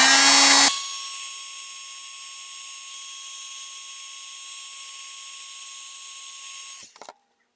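A heat tool blows steadily to set embossing powder on a handmade Valentine's card, a constant high whooshing hum running for about six seconds after a brief louder start, then cutting off with a couple of clicks.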